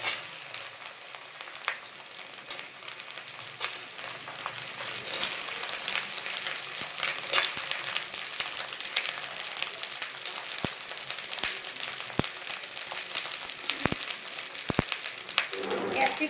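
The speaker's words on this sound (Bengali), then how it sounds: "ক্যাপসিকামটা একটু ভালো করে ভেজে নিয়ে" Chopped capsicum fries in a hot pan for chilli chicken, giving a steady close sizzle with scattered crackles and a few sharp clicks of stirring throughout.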